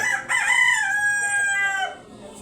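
A rooster crows once nearby, a long drawn-out cock-a-doodle-doo that rises and trails off.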